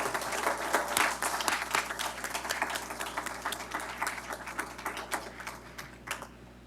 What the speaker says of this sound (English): So we could have a round of applause.